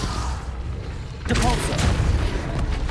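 A Confringo spell blast goes off in the Hogwarts Legacy video game, a sudden loud booming burst that rolls into a sustained rumbling explosion over constant game background noise.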